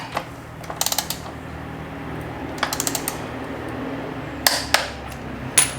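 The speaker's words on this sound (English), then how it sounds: "we're going to torque this rear axle nut down to 90 Newton meters, which is about 66 foot-pounds of torque" Rear axle nut on a KTM 890 Adventure motorcycle being torqued down with a wrench, heard as faint clusters of quick metallic ratchet clicks with a few louder single clicks over a quiet garage background.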